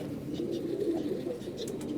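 Pigeons in a loft give a low, steady cooing, including brown-necked birds kept for pairing, with a few faint higher chirps over a continuous murmur.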